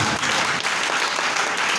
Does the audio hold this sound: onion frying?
no